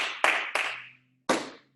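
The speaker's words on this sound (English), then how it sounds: "3 claps" A class of children claps three times, each a sharp, close hand slap with a short ringing tail, and a longer pause comes before the last.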